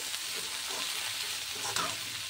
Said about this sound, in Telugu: మనం వేసేసుకుని ఫ్రై అవనిద్దాం